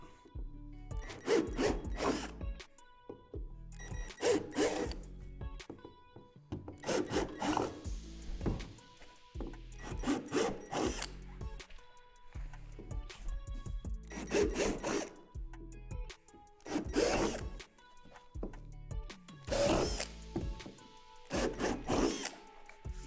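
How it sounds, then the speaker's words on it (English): Repeated bursts of a power drill with a 3/8-inch bit biting into plastic swing set parts, about ten short grinding runs separated by brief pauses, close and fairly loud. "locate these 4 divots and drill them out with a 3/8 drill bit"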